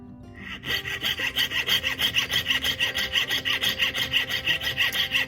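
A jeweler's saw cuts through metal for handmade jewelry with a steady rhythm of about four rasping strokes per second, close up and alone.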